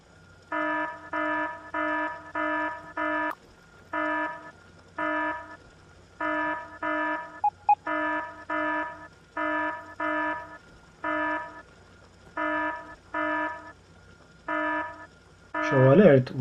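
A programmable speaker in the video game Factorio sounds an alarm, short buzzing beeps in quick groups of two to four repeating steadily, clear and alone, ending with a brief noisier burst.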